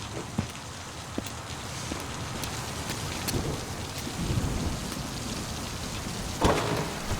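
Steady rain pours down with a low rumble of thunder rolling underneath, a few sharper drops and knocks standing out.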